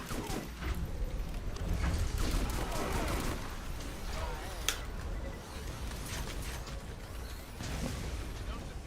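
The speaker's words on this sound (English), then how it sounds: "A corrosive shotgun" A corrosive shotgun fires in Borderlands amid busy combat clatter and mechanical clicks. The blasts are loud and repeated, with a sharp crack near the middle.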